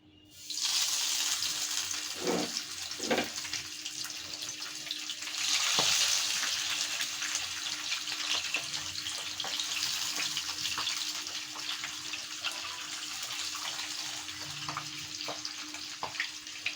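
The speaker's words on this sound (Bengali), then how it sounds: "তেল আমার গরম হয়ে গিয়েছে। এখন আমি মাছগুলো দিয়ে দেব।" Pabda fish frying in hot oil, a steady close hiss and crackle that swells briefly after a couple of soft knocks, continuing without speech.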